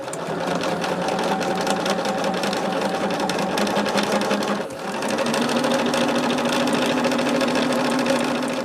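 A sewing machine stitching quilt rows runs in a fast, steady mechanical whir, close and continuous, with a brief dip midway before resuming at a slightly different pitch.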